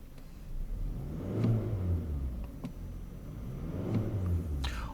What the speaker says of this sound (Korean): 엔진 사운드가 궁금하신가요? 한번 들려드릴게요. 공회전 때 이거는 뭐 거의 진동 없고요.